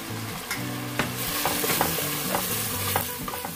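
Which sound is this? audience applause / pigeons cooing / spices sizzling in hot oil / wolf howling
spices sizzling in hot oil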